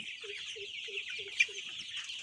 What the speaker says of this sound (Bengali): ফ্যান দেওয়ার কারণে হালকা দুটো একটা মুরগি একটু খ্যাকখুক করছে, ঠান্ডা লেগেছে।